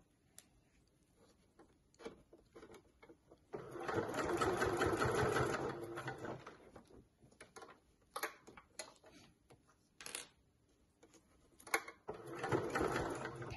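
A sewing machine stitches a fold over clutch bag, running in a steady loud burst for a couple of seconds, then in short stop-start bursts with quiet pauses between them.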